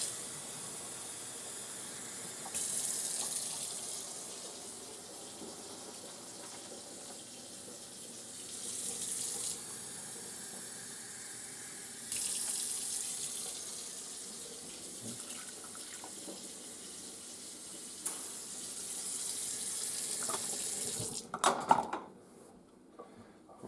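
Water runs from a kitchen tap in bursts while macaroni and cheese is being made, a steady hiss that starts and stops several times, ending with some clatter at the sink.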